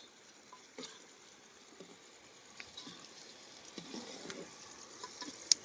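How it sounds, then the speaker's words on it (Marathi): Onion and tomato fry in oil outdoors by a river, a faint, steady low sizzle with occasional soft stirring clicks, quiet and close. "तर कांदो टाकून घेतले ना आणि टोमॅटो टाकलेलो हा."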